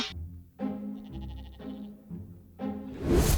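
Sheep bleat on a farm in a few separate, wavering calls one after another, with a closer, louder bleat at the end, and no talking.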